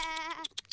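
Animated sheep bleating, one long wavering close bleat followed by a few short quick calls, loud against a quiet background.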